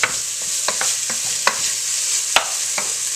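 Spices, tomato paste, mirepoix and garlic frying together in a pot, with a steady soft sizzle broken by a series of sharp spoon scrapes and knocks against the pot at an irregular rhythm.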